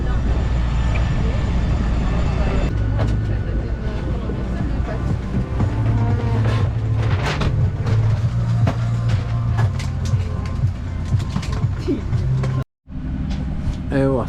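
Cabin noise aboard an airliner during boarding on a flight to Treviso, a steady loud engine and ventilation roar with low hum and scattered clatter, a brief dropout near the end, and people talking faintly underneath.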